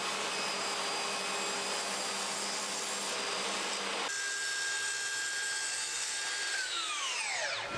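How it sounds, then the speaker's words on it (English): A handheld router cuts a rebate in plywood for the inside of a coffee table, lowering the bit a little with each pass. It gives a loud, steady high whine that shifts in tone midway and winds down at the end, with no talk. "I'm cutting this rebate in what will be the inside of the table, and I'm removing a little bit at a time, lowering the router bit with each pass"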